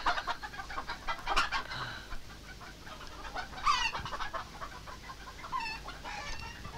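Chickens at a poultry and egg shop cluck steadily, with occasional louder squawks rising over the flock, close and continuous, with no talk.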